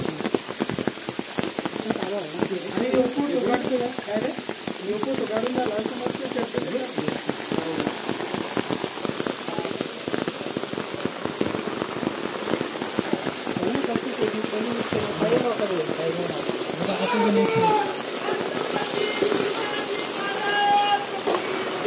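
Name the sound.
rain falling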